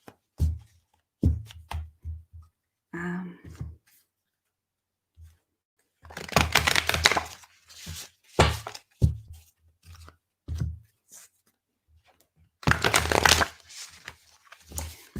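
Large tarot card decks being shuffled by hand, with bursts of riffling and rustling between short taps and handling noises, close and clear.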